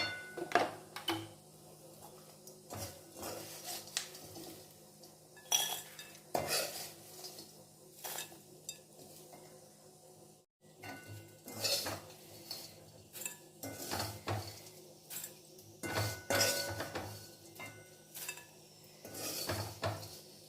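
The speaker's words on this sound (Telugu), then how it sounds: "అందుకని ఇప్పుడు ఇది ఒక సౌండ్ బౌల్లోకి తీసేసుకుందాం." Cashew and okra fry is scooped from a pan into a bowl, a long run of close metal scrapes, clinks and taps in irregular bursts with quiet pauses between.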